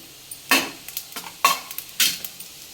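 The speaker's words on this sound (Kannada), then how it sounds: "ಹಾಗೆ ಗಸಗಸೆನೂ ಕೂಡ ಹಾಕ್ತಾಯಿದ್ದೀನಿ" Poppy seeds being added and dry-roasted in a pan for homemade vangibath masala, with a series of sharp scraping and clinking stirs of a spoon against the pan over a faint sizzle, several distinct strokes, no talking.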